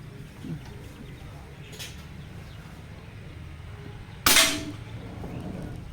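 A single airgun shot firing an Astro 18 pellet: one sharp, close crack with a short decaying tail, standing out against a steady low background hum with no talking.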